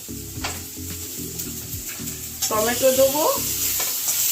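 Tomatoes drop into spice masala frying in a pot, raising a loud close sizzle that swells partway through, with stirring clatter and a brief higher tonal squeal.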